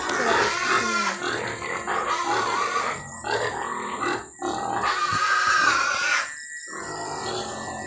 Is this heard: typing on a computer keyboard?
no